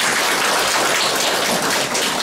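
Audience applause at a local community meeting in Yesan county, a dense, steady wash of many hands clapping throughout, fairly loud and unbroken like rain, with no voices standing out.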